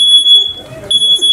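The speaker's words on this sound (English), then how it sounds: "This is our biannual fire and safety alarm test." A theatre's fire and safety alarm test gives a loud, steady, high-pitched electronic tone that sounds alongside a speaking voice.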